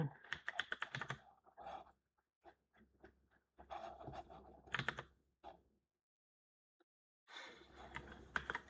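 Rapid clicking keystrokes of someone typing code on a computer keyboard, in quick bursts separated by short quiet pauses, close and crisp with no voices.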